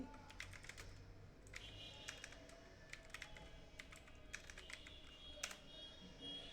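Rapid, irregular clicking of a computer keyboard as someone types a search while working on a web banner design, with steady soft keystrokes and short bursts of faster typing, quiet and close.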